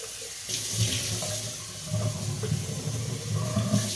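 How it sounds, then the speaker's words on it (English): Tap water runs steadily into a sink while a coffee maker part is rinsed out, with a soft splashing hiss and slight changes as the part moves under the stream. "You just rinse this out."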